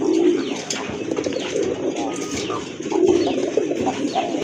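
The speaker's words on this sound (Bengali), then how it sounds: "ভালো মানের এক জোড়া কবুতর, কোয়ালিটি ফুল কবুতর" A pair of domestic pigeons coo in low, throaty bursts, two clear phrases near the start and again later, close up against a busy background of other birds chirping.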